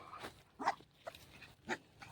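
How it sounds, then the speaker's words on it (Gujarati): Young puppies give several faint, short whimpering yelps spaced apart, with quiet background between the cries. "ગલુડિયા આયા જો સમજો."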